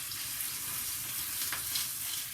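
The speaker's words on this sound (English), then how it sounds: "that pan is now murder hot, so we're going to put our meat in there" Lamb neck fillet searing in a very hot pan: a loud, continuous sizzle and crackle with a brief spattering burst near the end, no voices.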